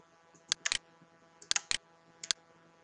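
Sharp, close mouse clicks sound in embroidery software on a computer, several quick single and double clicks spaced across a quiet room.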